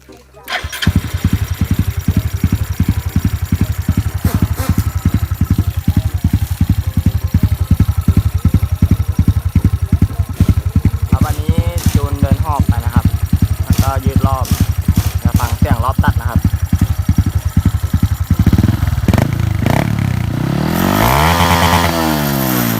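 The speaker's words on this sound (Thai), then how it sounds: "อันนี้เป็นซูเปอร์คัพนะครับ ก็ทำเครื่องมาแล้วครับ จะสตาร์ทให้ฟังเสียงนะครับ" A remapped Honda Super Cub engine cranks, catches and runs in rapid even pulses close to the microphone, then revs repeatedly in rising bursts with a final high rev, loud throughout.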